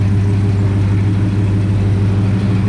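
A 1967 Plymouth Satellite engine idles after a cold start, a loud, steady low rumble with an even rhythmic pulse and no talking.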